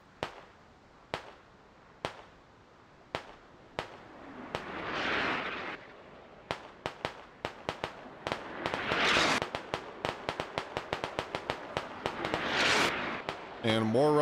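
Gunfire from Russian soldiers in the military shooter game Squad: distant sharp cracks spaced a second or so apart, then thickening into rapid volleys, with swelling rushes of noise between shots and a burst of louder fire at the end.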